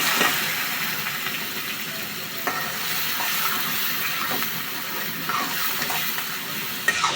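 Sliced onion fries in a pan for a meat korma with greens: a steady, loud sizzle and hiss continues throughout, broken by occasional scrapes and clacks of stirring.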